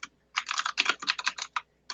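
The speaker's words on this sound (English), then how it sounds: "And if you'll pardon my noisy keyboard" A noisy computer keyboard typed on during an online meeting, with several quick bursts of clattering keystrokes separated by brief pauses, close and fairly loud with no talk.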